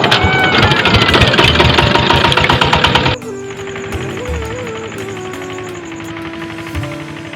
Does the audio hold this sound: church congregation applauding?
no